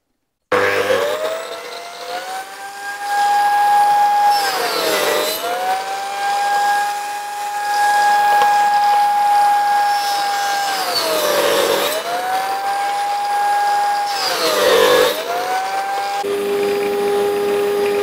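A power saw cuts a groove into wood for a Warré beehive, a loud, close, whining tone that holds steady and dips in pitch at intervals as each cut bites, repeating several passes.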